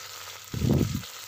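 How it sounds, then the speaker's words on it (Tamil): Onion with mint and green chili hitting hot oil while making coconut milk rice, giving a short, close burst of sizzling that swells for about half a second and then settles back to a low hiss. "கொஞ்சமாக வெங்காயம் கட் பண்ணி வச்சுருக்கோம் இல்லையா, அதை சேர்த்து நம்ம வதக்கிக்கலாம்"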